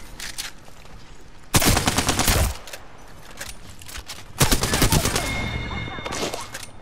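Bursts of automatic gunfire from a video game shooter come in two long loud volleys, with scattered single shots and game sounds between them, close and dominant.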